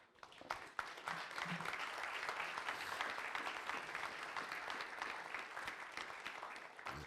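Church congregation clapping for the Lord during a sermon, a steady wash of many hands applauding at moderate distance, fairly quiet overall, rising after a brief start and continuing for about seven seconds.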